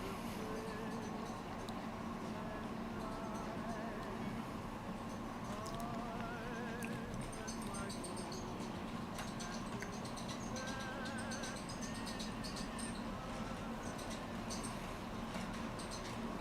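Squeaking from a small Forney model train locomotive running unoiled, thin high squeals and ticks repeating steadily over a continuous low rolling rumble, close and moderately quiet throughout.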